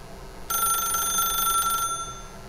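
A telephone ringing in the video game The Stanley Parable, one sustained electronic ring burst of about a second and a half, clear and close, starting and stopping abruptly over a quiet background.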